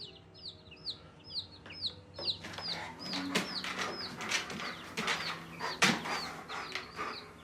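Chickens cluck and squawk in a pen, a cluster of repeated high calls at first followed by scattered clucks, wing flaps and rustling, close and moderately loud.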